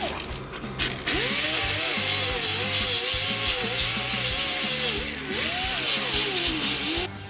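A power tool grinds down hardened fiberglass patched onto a Harley trunk, a loud continuous whine that dips and climbs in pitch as pressure changes, close with brief pauses near the start and end.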